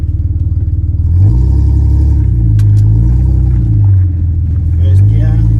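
Engine of a lifted off-road Ford AU Falcon, loud and close, droning low and rising in pitch as it revs through the gears with a steady rumble, voices talking over it.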